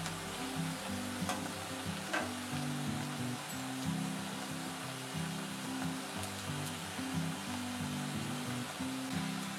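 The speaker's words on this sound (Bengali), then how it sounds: "সব দিক খুব ভালোভাবে লাল করে ভাজা হয়ে গেছে" Banana fritters fry in oil with a continuous, even crackling sizzle that stays steady and close throughout, with no voices.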